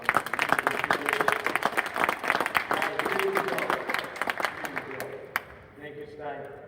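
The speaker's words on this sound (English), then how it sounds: "I want to clap the hands for these guys." A crowd applauds steadily with dense clapping, fairly loud, tapering off toward the end as voices murmur underneath.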